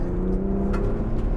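A Ford Bronco Raptor engine pulls hard in third gear on a rally stage, a loud, steady low drone with a rising tone, close and continuous, with no voices over it.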